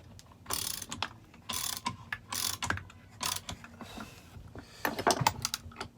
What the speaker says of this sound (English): So I've just got a socket on there now.